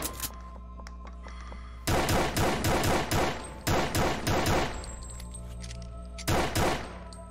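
Gunshots in the Doom-engine horror game Dismantled: a rapid string of loud, sharp shots from about two seconds in, then a short final burst near the end, all over a low steady hum, with no talk.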